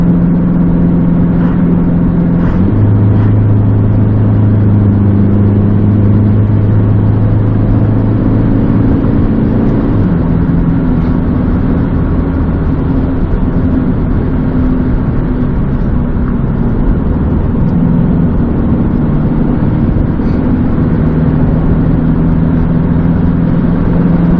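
An Isuzu D-Max pickup engine hums loudly and steadily as it climbs a long hill, with gear changes shifting the pitch and no talk over it.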